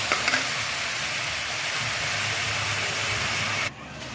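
Onion and grated local tomato fry in a pan with a loud, steady sizzle and hiss close up, broken by a couple of faint clinks near the start, then cutting off abruptly near the end.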